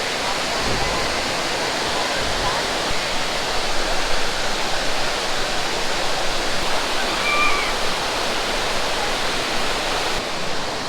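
Ellewala waterfall at Ravana Ella in Sri Lanka pours with a loud, steady, close roar of falling water that stays constant from start to finish.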